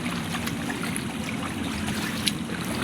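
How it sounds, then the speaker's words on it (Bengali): Steady sloshing and trickling of floodwater as someone wades slowly through a flooded room or workshop during heavy monsoon rain, a continuous close watery churn with no distinct splashes standing out. "জলের মধ্যে আমি হাঁটি হাঁটি পা পা করছি"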